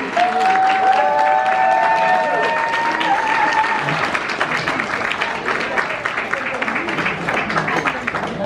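An audience at a care-home open day in Merchtem, Belgium, bursts into loud, sustained clapping. A voice and some tonal sounds rise over it at the start, and the applause carries on steadily to the end.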